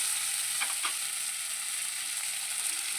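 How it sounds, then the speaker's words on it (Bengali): Raw mango pieces sizzle steadily in a hot pan for a Bengali sour-spicy mourola fish dish, with a couple of brief stirring scrapes near the start over continuous frying hiss; no voices. "কাঁচা আমগুলো দিয়ে একটু ভালো করে মিশিয়ে বা নাড়িয়ে চাড়িয়ে নেব।"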